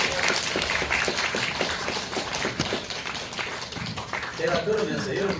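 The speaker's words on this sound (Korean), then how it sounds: "박수 한번 더 해주세요" Congregation at a winter church gathering gives another round of applause. It is a continuous, fairly loud rattle of many hands clapping, with a voice emerging near the end.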